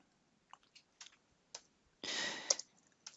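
Sharp, isolated computer mouse clicks at close range, several single taps spaced irregularly with one brief burst of rustling, in a quiet room with no talking.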